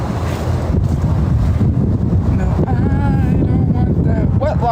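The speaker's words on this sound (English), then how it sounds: "It's windy out here." Strong wind buffets the microphone outdoors, a loud, constant low roar with gusts, while a person speaks faintly underneath.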